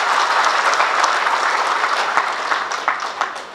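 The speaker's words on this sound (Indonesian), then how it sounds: "Tepuk tangan untuk Tuhan." Congregation at a church testimony service breaks into energetic applause, a dense burst of clapping that stays strong for a few seconds and then thins out toward the end.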